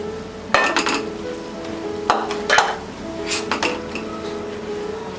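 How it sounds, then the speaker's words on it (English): Mango pickle masala with Kashmiri chili powder sautéing in a pan, a soft sizzle broken by a few sharp spatula clinks and scrapes against the metal, close and fairly loud. "Saute it for about 2 minutes."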